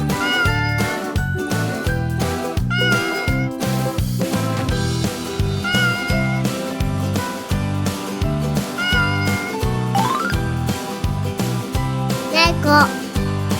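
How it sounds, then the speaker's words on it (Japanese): A cat meowing in a children's animal-sound quiz cartoon, with a few meows set over loud, bouncy rhythmic music that plays throughout. "猫。"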